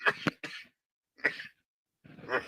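A person coughs several times in quick, rough bursts close to the microphone, with short silent gaps between the coughs and no talk.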